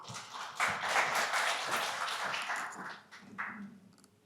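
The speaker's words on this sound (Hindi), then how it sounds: "तालियों के साथ स्वागत कीजिए" Applause from an audience at a lecture hall event, welcoming a speaker to the stage; a fairly quiet burst of clapping that swells and then fades over a few seconds, with no talk over it.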